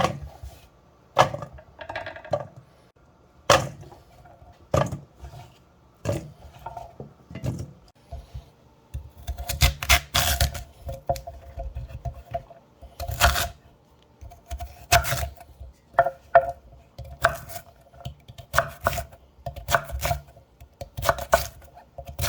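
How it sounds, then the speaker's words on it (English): Raw chicken pieces are chopped with a knife on a cutting board, with sharp close thuds landing at an irregular pace and clustering into quicker runs toward the end, with no talk. "So let's cut them up."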